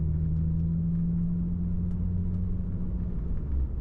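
A car engine hums as a low, steady droning rumble from inside the cabin, with the pitch holding then easing slightly as it moves up through the gears, no voices present.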